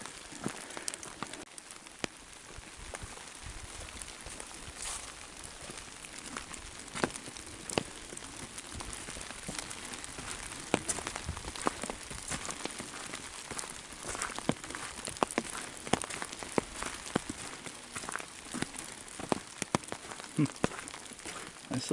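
Rain falls on the Nicks Lake trail near Old Forge, New York, as a steady, faint, broadband patter with scattered sharper drips and a light rustle, running for over twenty seconds without talk.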